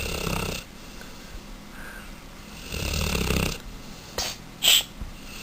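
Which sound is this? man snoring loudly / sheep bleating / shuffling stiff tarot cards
man snoring loudly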